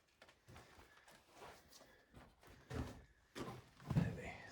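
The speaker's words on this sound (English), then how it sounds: "Let's open this door." A barn door is opened, giving a few dull thumps and knocks that grow louder toward the end, close by in a quiet setting with no talk.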